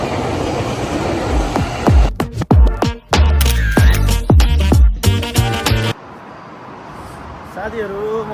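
A train at a railway station in Japan, with a run of loud, rhythmic clattering and squealing bursts close by, then a quieter platform hum with a voice in the last seconds.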